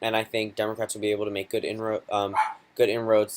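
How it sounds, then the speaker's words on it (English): A household dog barking in the background, its yips and barks tangled under a man's continuous nearby speech. "Sorry if you hear a dog barking."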